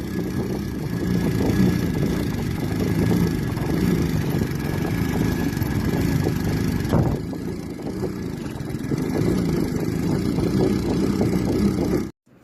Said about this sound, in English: This is a 4 horsepower, 4-stroke motor.